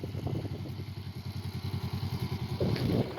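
A 2018 Honda Rebel 500 motorcycle chugging along in second gear near stalling, its engine thumping in a steady rapid pulse close by, rising slightly in loudness toward the end.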